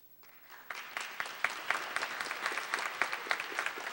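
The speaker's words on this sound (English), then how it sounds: "if you could just give them a round of applause, please" Applause building from a few scattered claps into a fuller round for elected township officials at a police awards event, growing denser and louder over a few seconds.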